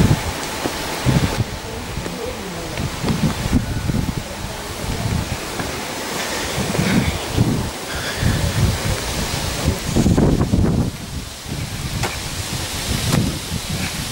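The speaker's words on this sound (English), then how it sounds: "Oh, it's windier up here" Wind gusting along Shanklin Seafront on the Isle of Wight, buffeting the microphone in loud uneven surges with broadband rush, while faint voices of people walking come through now and then.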